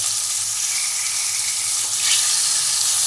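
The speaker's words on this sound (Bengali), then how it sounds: "তেলের মধ্যেই আমি মাছগুলোকে জাস্ট হালকা করে একটু ভেজে নেব" Hilsa fish fry lightly in hot oil, giving a continuous close hiss and sizzle that swells slightly near the end, with no talk.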